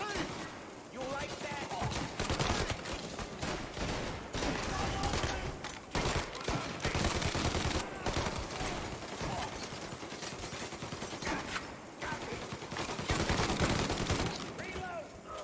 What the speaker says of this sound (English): maybe this was the way this gun used to work. It definitely is very loud